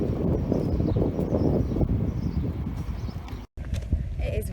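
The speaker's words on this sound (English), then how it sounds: "But it is so windy outside." Strong outdoor wind buffets the microphone in a steady low roar, with faint birdsong in the background and a brief dropout near the end.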